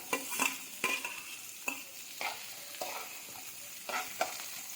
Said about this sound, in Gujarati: તેને 2-3 માટે આપણે સાંતળી લઈશું।